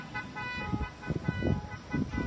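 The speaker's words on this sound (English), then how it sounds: "Whoever's honking that horn is like super annoying." Several short car horn toots repeat on a busy street by a lake in Vietnam, heard through steady traffic rumble and outdoor noise.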